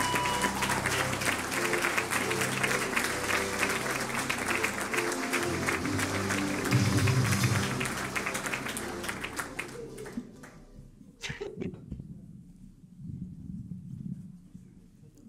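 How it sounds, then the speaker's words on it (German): Poetry slam audience applauds for performer Thomas Schmidt, dense clapping sustained for about ten seconds before it thins out into a few scattered claps and quiet room noise. "einen Applaus bitte für Thomas Schmidt"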